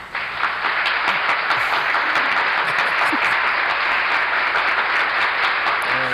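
Recorded applause played back on a radio show, a steady dense wash of clapping that holds at an even level from start to finish with no voices over it.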